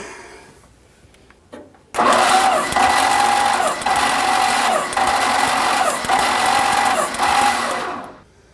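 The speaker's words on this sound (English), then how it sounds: "We don't have a dead cylinder, we just have a very tired motor." Tired engine of a 1965 Dodge A100 van running with a leaking fuel pump, starting after a quiet moment then a loud, close, steady drone with rhythmic dips roughly every second until it cuts off.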